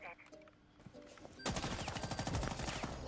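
Rapid automatic gunfire in the video game Rainbow Six Siege, with a few quiet game sounds first, then a dense burst of close shots running to the end.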